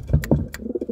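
Pigeons in a breeding loft, including a newly paired male and female, give low, throaty coos close by, a short rolling run of pulsing notes with no talking.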